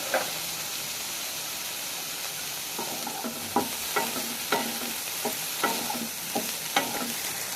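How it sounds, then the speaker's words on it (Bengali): Broccoli frying in a pan, a constant close sizzle of oil broken by a series of sharp clacks and scrapes as it is stirred at an irregular pace. "নিয়ে আমি খুব ভালো করে ব্রোকলিগুলোকে ভেজে নেব।"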